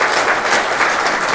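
Audience applause at an award ceremony for the Silk Road Gyeongju 2015 organizing committee, a loud, dense and continuous clapping that carries through the whole short stretch without talk.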